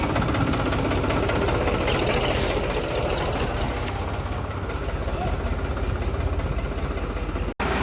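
A New Holland tractor engine idles loudly up close, a steady low chugging rumble that runs throughout, briefly cutting out just before the end.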